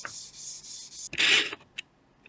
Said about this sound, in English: I'm just using the 120 grit side of my leveling beam.